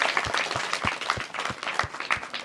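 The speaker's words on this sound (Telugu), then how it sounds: "అనుష ఇంకా గాయత్రికి గట్టిగా క్లాప్స్ కొట్టరా ప్లీజ్." Applause from college students at JBM Vocational Junior College, a steady wash of many hands clapping with a few sharper individual claps standing out, fairly even in level throughout.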